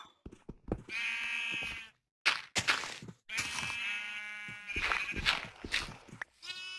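Sheep in the Minecraft video game bleating in a series of close, nasal calls, several overlapping bleats over about seven seconds with a few soft thunks between them.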